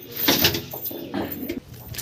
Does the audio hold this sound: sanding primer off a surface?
no